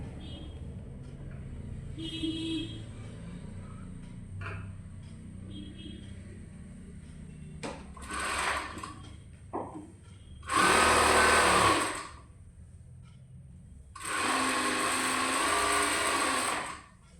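A sewing machine stitches a quarter-inch folded hem on children's pants, running in several short bursts separated by quiet pauses, the last two runs longer and louder.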